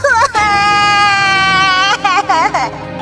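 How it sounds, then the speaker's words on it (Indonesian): A child cries loudly by a roadside, a sustained wailing sob that breaks into shorter wavering cries, close and strong. It sounds as though a voice is acting out the crying. "Ia pun menangis keras di pinggir jalan."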